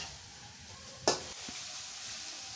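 Cabbage frying in a wok with a soft, steady sizzle and one sharp clatter of stirring partway through, quiet and alone.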